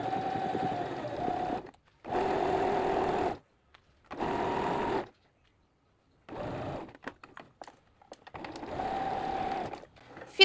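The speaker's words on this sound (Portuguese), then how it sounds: "baixei meu calcador e vou continuar costurando." A sewing machine stitches a fabric collar in several bursts of rapid motor whirring separated by pauses, close and moderately loud, with a few light clicks between runs and no talking.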